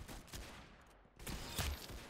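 Several sharp gunshots in the video game Arsenal, a burst early on and heavier shots after a brief lull, loud and close.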